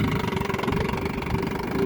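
A 1958 Johnson QD 19 10 HP outboard motor running on a choppy lake, a loud steady mid-pitched engine drone with a rapid pulsing throb, close and uninterrupted.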